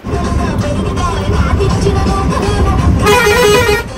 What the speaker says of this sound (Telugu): డ్రైవర్ గారు ఉత్తనే ఆడుకుంటున్నారు హార్న్ తో